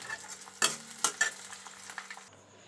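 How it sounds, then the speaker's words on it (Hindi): Onion dropped into hot oil in a kadai sizzles and crackles, with sharp bursts as it hits and is stirred, then a quieter steady frying hiss that fades near the end; no talking. "मेरा तेल पूरा गर्म हो गया और इसमें हम प्याज जो है अपना डाल दें"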